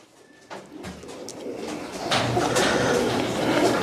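Low, soft pigeon coos repeat amid a steady rustling background that grows louder partway through.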